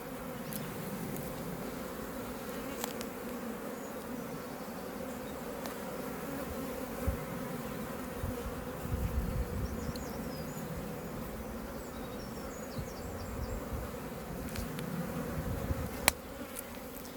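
A steady, dense hum of many honeybees buzzing around a hive, continuous and even throughout with no voices.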